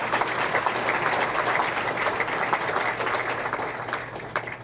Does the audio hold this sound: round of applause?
yes